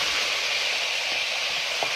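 Tomatoes dropped into hot olive oil sizzle steadily, a close, even hiss of frying with no pauses.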